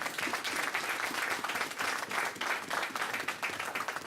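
A church congregation applauds the Lord during a worship service, dense sustained clapping filling the room at steady loudness for the whole stretch, with no voices rising above it.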